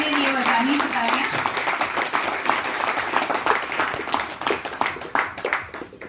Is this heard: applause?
yes